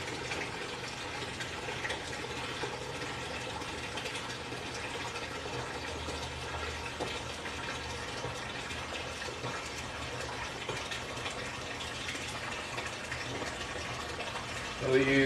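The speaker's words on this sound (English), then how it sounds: "Real quick, I need to put water in my bucket." Water runs steadily into a 5-gallon bucket, a continuous even hiss and gush lasting throughout at moderate level, with a small bump in loudness at the very end.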